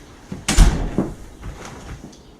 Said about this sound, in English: Make sure to close the door